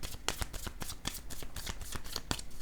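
Tarot cards are shuffled and drawn. Quick, crisp riffling and slapping card sounds repeat in an uneven rhythm, close up and fairly quiet.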